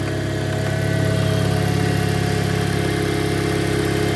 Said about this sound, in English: that's the power steering pump.